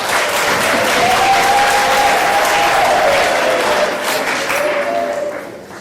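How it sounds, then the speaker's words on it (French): Audience applause at a French swearing-in ceremony for midwives, a dense sustained wash of clapping from a crowd that stays loud and steady before tapering off near the end, with a faint voice underneath. "est-ce que vous pouvez les applaudir?"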